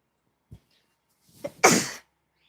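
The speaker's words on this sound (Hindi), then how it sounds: "1 महीने के बाद मैंने छींक ली है।" One loud, close sneeze with a sharp intake of breath before it and a small sound just ahead of that, set against silence.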